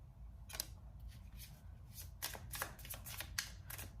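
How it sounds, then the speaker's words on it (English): Tarot cards being shuffled by hand in a series of crisp, papery riffling bursts at an irregular rhythm, close and moderately loud, with no talk over them. "I'm gonna finish shuffling."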